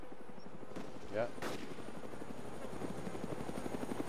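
Helicopter in the video game DayZ, a steady rotor thrum running through the whole stretch with a sharp burst near the start, under a brief spoken word.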